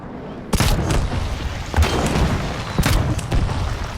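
Cannon mounted on a robot's turning head firing in the Trailmakers building game, several loud booming shots at intervals over a steady mechanical drone, close and punchy.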